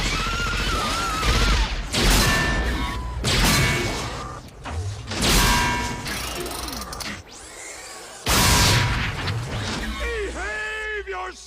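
Gunfire bursts from a RoboCop 2 movie scene, mixed with crashes, mechanical clanks and dramatic film soundtrack, with brief voices between the loud shots.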